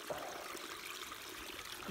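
Mountain spring water trickles at an Appalachian Trail campsite, a soft, continuous, faint babble with no breaks or voices.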